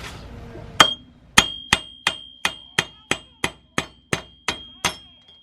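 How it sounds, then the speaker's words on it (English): A hammer strikes a wheel stud on a 2018 Honda Accord hub, twelve sharp metallic bangs at a steady, even pace, each ringing briefly with a bright clang, close and loud with no talking. "you're gonna grab the hammer, and you're gonna use your hammer power, and you're gonna bang these out like that"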